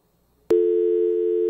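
A steady telephone tone starts abruptly after a click on a busy call-in line to a radio show and holds loud and continuous with no speech.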